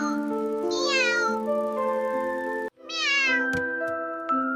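A cat gives two clear, close meows with a short pause between them, each a rising then falling cry, with no talking.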